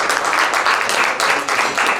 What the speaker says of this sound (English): Let's give a round of applause for our sheriff, everybody.